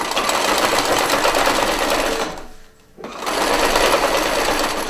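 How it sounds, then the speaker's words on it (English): A sewing machine stitches a quarter-inch seam joining bias binding strips, running as a loud, steady motor whir that stops briefly midway before resuming at the same pace. "I want to sew a nice accurate 1/4 inch seam"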